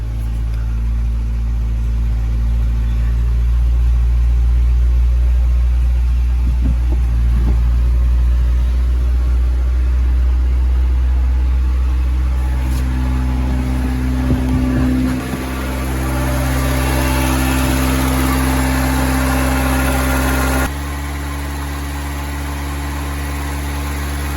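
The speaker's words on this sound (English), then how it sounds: "the Polo started up and it's running nice and smooth" A 1988 VW Polo MK2 engine runs close by as a loud, steady low rumble with slight rises in revs, then settles to a quieter idle near the end, with no talking.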